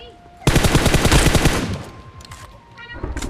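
Rapid automatic gunfire from the BGMI mobile shooter game, a loud dense burst that rattles for about a second and a half, then trails off into scattered shots and echoes, with faint speech at the end.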